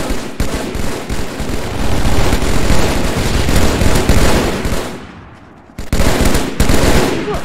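Gunfire in the VR shooter Contractors, sustained loud bursts of automatic fire that fade out briefly and then resume abruptly, close and dense with overlapping shots.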